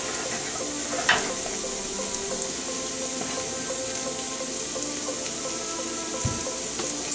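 Store-bought pre-made sauce for dubu jorim and tteokbokki simmers and sizzles in a pan, a steady faint hiss with an occasional clink or scrape as it is mixed, no voices.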